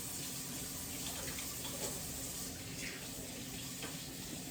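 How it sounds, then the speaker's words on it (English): A kitchen tap runs steadily while hands are washed during cooking, giving a continuous, even hiss of flowing water with no talking. "let me just wash off my hands"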